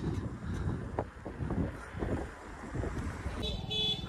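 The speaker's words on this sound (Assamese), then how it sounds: "একদম ঠাণ্ডা বতাহ আহি আছে" Steady wind rushing across the microphone on a scenic road during a solo cycle ride, a low, continuous buffeting roar that rises and falls slightly, with a brief faint tonal sound near the end.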